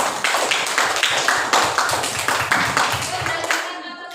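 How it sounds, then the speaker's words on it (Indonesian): Children in a classroom clap their hands together in a quick, regular rhythm, a close, loud run of sharp claps, with some voices in the room. "Tepuk tangan."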